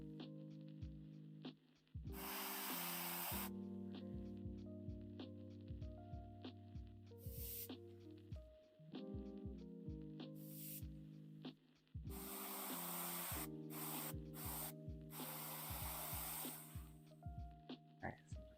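An airbrush paint gun sprays in short and long bursts of soft hiss at low pressure, separated by pauses, against a quiet hum and some faint handling noises.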